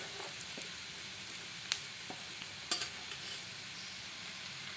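Potato pieces fry in oil with sautéed onions, giving a quiet, steady sizzle broken by a few sharp clinks and scrapes of a spoon against the pan.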